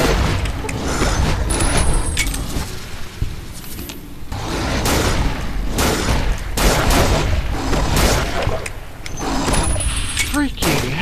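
Gunfire and booms in the PC video game Fallout: New Vegas come in scattered loud bursts across the whole stretch, with someone talking excitedly over much of the shooting.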